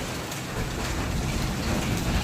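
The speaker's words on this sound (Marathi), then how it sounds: "हे बघा थोडासा कमी झाला आता पाऊस" Heavy monsoon rain pouring down outdoors, a loud dense continuous hiss of drops drumming on surfaces with a low rumbling undertone, steady throughout with no voices.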